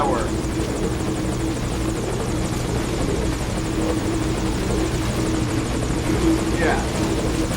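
A helicopter in a video game drones steadily throughout, a constant rotor hum with voices talking over it.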